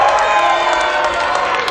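Wrestling crowd cheering and shouting steadily throughout, a dense, loud roar of many voices with scattered whoops, no single voice standing out.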